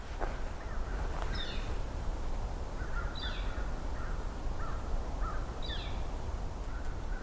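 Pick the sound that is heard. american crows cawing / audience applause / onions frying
american crows cawing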